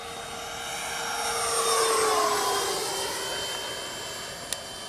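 A Freewing Avanti S RC model jet flies past outdoors, its high turbine whine swelling as it approaches, peaking overhead and then fading with a falling pitch as it moves off, with no talk.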